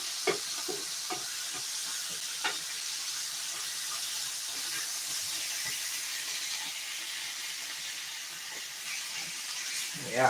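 Trimmed meat fat rendering in a hot pan gives off a steady, close sizzling hiss with scattered small pops and crackles, no talking.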